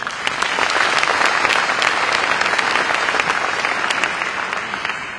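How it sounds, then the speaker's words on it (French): A crowd at a New Year's civic ceremony in Cavalaire applauds the mayor of La Crau with dense, steady, loud clapping that holds evenly for about five seconds. "je vous demande d'applaudir le maire de la Crau"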